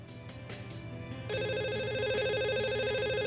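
A telephone rings in the VR game The Assembly, a steady electronic trill that switches to a louder, fuller ring partway through and keeps sounding alone.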